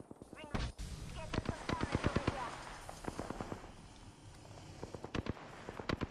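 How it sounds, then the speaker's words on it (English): Gunfire in the video game Apex Legends, sharp rapid bursts of shots in quick clusters, some closer and some more distant, with scattered quieter impacts between. "I think he's shooting me."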